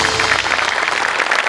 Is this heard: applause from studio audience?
yes